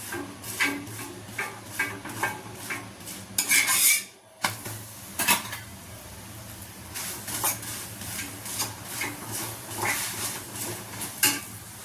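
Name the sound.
frying thepla on an iron griddle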